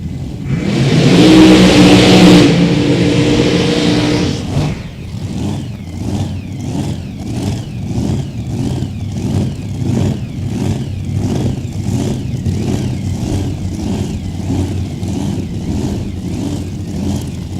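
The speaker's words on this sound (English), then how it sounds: "It's undistinguishable engine sound." Race car engines at a track, a loud roar and revving at first, then a long, steady pulsing drone as the cars run on, strong and without talk.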